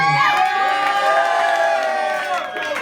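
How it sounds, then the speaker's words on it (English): Audience at a comedy roast erupts in loud, sustained cheering, whooping and shouting, a dense crowd roar with bursts of clapping that holds steady and eases slightly at the end. "the biggest round of applause of the night would be for Cole Primo"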